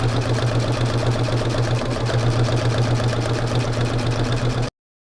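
A sewing machine tacking down a quilt with smoky thread runs in a steady, fast, close-up whir with a rapid needle chatter, continuous and unbroken until it stops abruptly near the end, with no talking.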